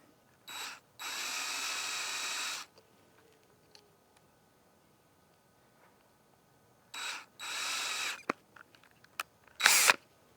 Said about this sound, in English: drill a little hole right there